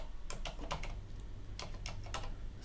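Keys clatter on a computer keyboard during a Linux software install on ArcoLinux, two quick bursts of several clicks each, close and clear over a low steady hum.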